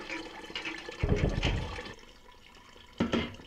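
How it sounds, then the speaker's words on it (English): Boiling water poured over brood comb to rinse out leftover wax, heard as close splashing and gushing pours in two bursts with quieter trickling between, and no talk. "I'm just gonna pour the boiling water carefully over them and rinse all the remaining wax out of them."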